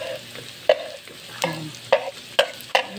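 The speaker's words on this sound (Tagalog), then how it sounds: "Igisa muna natin ang luya." Ginger sautéing in hot oil for sweet and sour tilapia, a soft steady sizzle broken by sharp scrapes of a utensil about every half second, close by with no voices.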